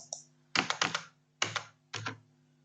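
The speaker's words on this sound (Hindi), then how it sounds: "सिर्फ एंटर करना है, बैक स्पेस देना है और जाके एंटर करना है।" A computer keyboard is pressed in short clusters of crisp key taps, about three quick bursts close by, in a quiet room.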